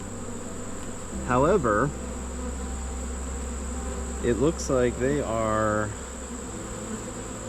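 Honey bees buzz in a steady drone inside a hive during a late-July beekeeping inspection, close and continuous, while a person speaks briefly over it twice.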